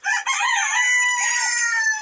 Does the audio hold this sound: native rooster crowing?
yes